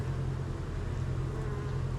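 Honeybees hum in a low, continuous drone around a hive frame held up during a split-colony check, the buzzing steady and close with no talk.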